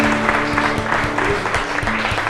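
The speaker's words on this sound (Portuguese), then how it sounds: "dê uma salva de palmas bem forte para o Senhor Jesus" A church congregation claps loudly for Jesus during a worship service, its strong applause mixed with sustained musical tones and steady rhythmic beats underneath.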